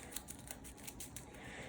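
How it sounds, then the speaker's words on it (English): Battlestar Galactica board game cards, including Destiny deck cards, being shuffled together, giving a quiet run of soft riffling clicks and flicks in an irregular rhythm, close by with no talking. "shuffle them all together"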